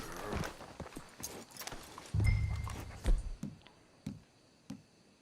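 Horse hooves clip-clopping in the video game Red Dead Redemption 2, a spaced run of distinct hoof knocks with a heavier thump midway, fairly close with light game ambience.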